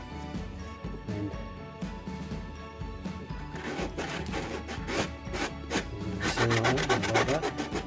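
Rough, scratchy rubbing strokes of hand sanding with a sanding pad, irregular at first then faster and louder toward the end, with no talking.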